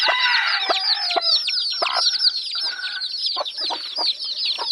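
Labuyo chickens, including a hen with about eight chicks, fill the air with a busy chorus of high chick peeps and clucks, close and continuous, without any talk.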